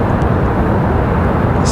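A Boeing 737-800 airliner arriving from Dallas DFW at Raleigh-Durham International gives a loud, steady, broadband jet roar throughout, close and continuous.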